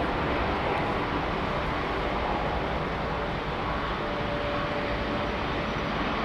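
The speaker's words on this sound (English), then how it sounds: "the opening A380 is just passing overhead" Airbus A380 passing overhead at London Heathrow, a dense, steady engine roar with no talk, fairly quiet and unchanging over these few seconds.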